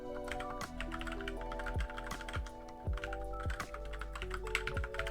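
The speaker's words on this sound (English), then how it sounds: "now we're gonna do the keyboard test. This is with the keyboard literally right next to the microphone" Typing on a computer keyboard placed right beside a FiFine K658 USB dynamic microphone: a steady, close, loud stream of clicky keystrokes for about five seconds, alone with no talk, over background music.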